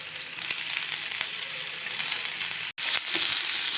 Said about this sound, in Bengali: 3 থেকে 4টে রসুনের কোয়া কুচি করে কাটা দিয়ে দিলাম।